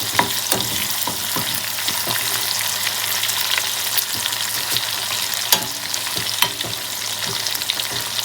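Prawns frying steadily in hot oil, a dense continuous sizzle with frequent small pops and crackles, close and fairly loud throughout, with no voices.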